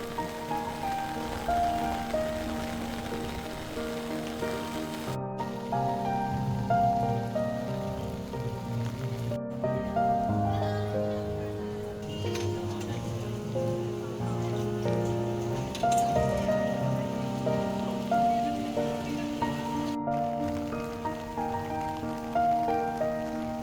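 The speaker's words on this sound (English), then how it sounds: "apparently it's like raining a lot" Heavy rain falls steadily across an outdoor Disneyland park on a wet day, a dense continuous patter on surfaces heard close and unbroken, mixed with a faint background hum of music and distant crowd.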